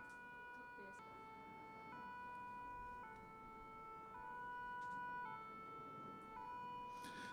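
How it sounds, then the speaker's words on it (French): A Paris fire brigade rescue and evacuation vehicle's two-tone siren sounds far off at an outdoor defence exhibition, alternating steadily in pitch over a continuous background of crowd and traffic noise. "Vous pouvez entendre au loin les sirènes d'un premier secours évacuation, engin symbolique de la brigade de sapeurs-pompiers de Paris"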